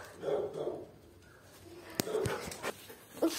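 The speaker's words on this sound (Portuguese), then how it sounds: "O cachorro late" A dog gives a few short, sharp barks and whimpers at moderate distance inside a home, mixed with household clatter and brief background voices.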